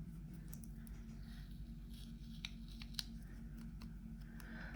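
Scissors snip through paper while planner pages are decorated, a few soft, quick cuts close by over a low steady hum.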